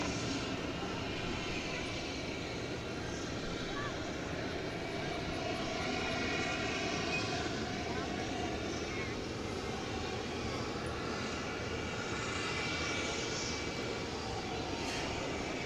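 A 1997-built airliner's engines drone steadily at DFW Airport at night, a continuous distant roar that swells slightly in the middle of the stretch, with voices talking over it.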